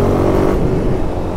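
A tractor engine revs hard as the throttle is opened, a loud, steady, low-pitched roar close by that holds for the whole moment with no talking.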